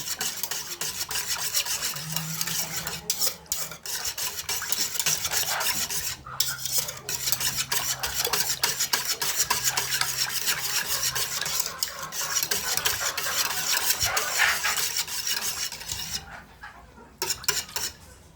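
A mixture being stirred until the cornstarch dissolves while making gulaman, a steady rhythmic scraping and rubbing of a utensil against the pot, close and continuous with brief pauses.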